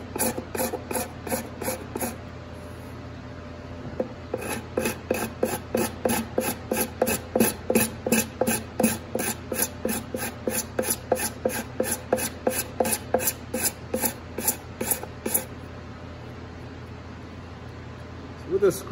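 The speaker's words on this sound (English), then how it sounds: "The scraper, it's got one edge that has a little burr on it, so you want to make sure you're scraping with that burr." A hand scraper with a burred edge rasps glue off the wooden binding of a handmade ukulele, in steady rhythmic strokes, close and loud, with a short pause near the start and a faint hum behind.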